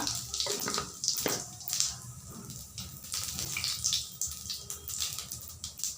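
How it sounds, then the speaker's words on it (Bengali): Bay leaves and cumin sizzling as they hit hot oil while tempering spices for a chicken feet curry, a steady close crackling hiss with scattered sharper pops throughout, no talking. "তেল গরম হয়ে গেছে আমি এখন ফোড়ন দিয়ে দিচ্ছি দুটো তেজপাতা একটু জিরা"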